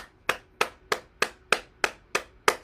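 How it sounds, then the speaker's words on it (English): Eight evenly spaced hand claps ring out alone, crisp and fairly close, at a steady rhythm during a gentle morning bouncing exercise session. "we'll clap our hands"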